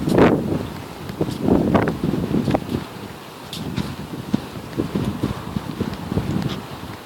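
Strong gusts of wind during a windstorm buffet the microphone in loud, irregular low rumbling bursts that continue throughout, with no one speaking.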